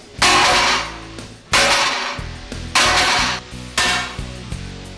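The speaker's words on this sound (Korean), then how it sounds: "강판을 돌에 올리고 망치로 내리치는데" Heavy hammer blows strike a warped steel plate laid on a massive stone while straightening it for safe making, giving four or five loud, ringing metallic impacts spaced about a second apart, each decaying with a resonant hum.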